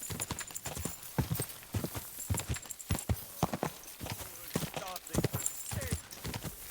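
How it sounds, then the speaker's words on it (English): A horse's hooves clip-clop in a steady walking rhythm of crisp, close knocks, with a voice speaking at times over the hoofbeats. "Whoa! Whoa! Good horse."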